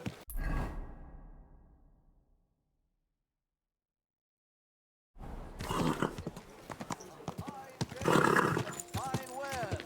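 In the video game Kingdom Come: Deliverance II, a horse snorts, then after a silent gap its hooves clip-clop and it whinnies, fairly close, with a voice speaking over it.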